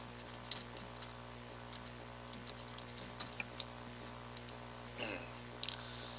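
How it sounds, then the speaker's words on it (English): Quiet, irregular keyboard typing with scattered clicks and short bursts of keystrokes over a steady low electrical hum. "we're going to start by typing in the title"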